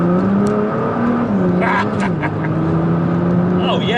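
A Nissan GTR accelerating hard, engine note rising and shifting through gears, loud and close, with wheel slip noise; voices exclaim over the engine partway through.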